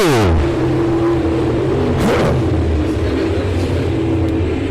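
IMCA Sport Mod race cars roar around a dirt oval at the Bud Nationals, a loud continuous engine drone with revving and a car sweeping past up close.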